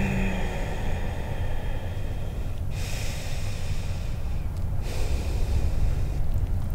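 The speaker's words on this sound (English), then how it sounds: "We're gonna stay here for three more full rounds of breath in through the nose." Steady breathing in and out through the nose during a yoga flow, a continuous close airy rush with no clear pauses, under a constant broadband noise floor.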